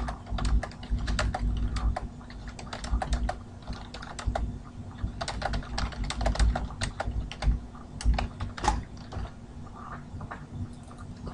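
Steady typing on a computer keyboard while text is entered in Notepad, a light stream of key clicks in uneven bursts with short pauses, close and moderately quiet over a faint steady hum.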